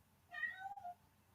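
A house cat gives a single short meow close to the microphone, bending its pitch downward, with a quiet, hollow room behind it.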